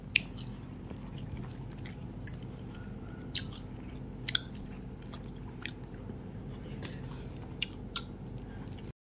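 Someone bites and chews pieces of cut guava, with sharp, crisp crunches scattered over a steady, close, wet chewing sound.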